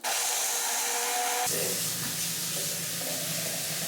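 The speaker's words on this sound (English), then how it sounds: "I added about 6 more ice cubes, and I'm going to blend it a little bit more" A blender crushes about six extra ice cubes into a cottage cheese frappuccino, a loud, steady whirring grind that shifts pitch partway through as the load changes, with no talking.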